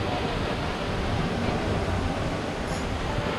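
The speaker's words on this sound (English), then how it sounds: "So that's the waterfall." Dense, continuous roaring rush of a large waterfall in Corsica, steady and loud with no breaks.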